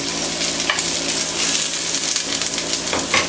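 Onions dropped into hot olive oil in a pot for curry crab soup sizzle loudly and steadily, a broad continuous frying hiss with a few brief clinks and bursts near the start and end, no talking.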